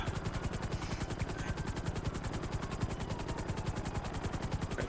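A helicopter in a FiveM police roleplay game beats steadily with fast, even rotor chop throughout, loud and close, with no voices over it.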